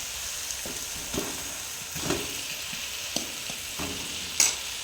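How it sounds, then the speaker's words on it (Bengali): Potatoes sautéed in spice masala for a Shankar (stingray) fish curry: a steady close sizzle with repeated scraping stirs at roughly one-second intervals, no voices. "আলুটা দিয়ে আর একটু কিছুক্ষণ দু মিনিট মতো কষে নেব"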